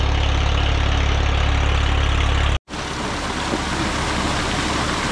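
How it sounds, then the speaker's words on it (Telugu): A motor pump drains water from a construction site foundation, a loud steady droning hum that cuts out for an instant and resumes with a rougher tone, with no speech over it. "ప్రస్తుతానికైతే ఒకే ఒక మోటార్ సహాయంతో నీటిని తోడుకోవడం జరుగుతుంది."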